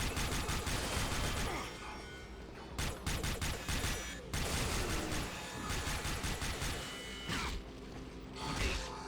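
Bursts of rapid gunfire from the shooter game Rage, loud and dense, broken by short pauses with mechanical clanks and whooshes, a speaking voice faintly mixed in.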